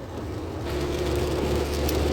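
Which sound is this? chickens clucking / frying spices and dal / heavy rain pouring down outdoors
heavy rain pouring down outdoors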